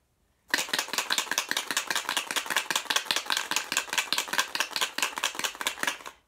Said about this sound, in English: Only rocks can make that sound, right? Little rocks.